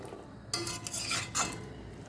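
Malabar spinach (pui shak) being stirred in a pan with a little water, giving scraping, clinking utensil strokes against the metal in a few short bursts, close and fairly quiet, with no talking.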